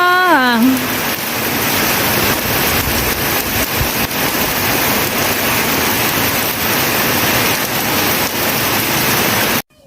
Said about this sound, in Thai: ฝนตกหนักมากนะคะ ตอนนี้